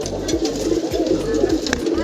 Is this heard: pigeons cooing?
yes